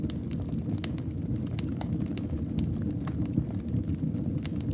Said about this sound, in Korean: 불은 자기 속도로 장작을 태운다.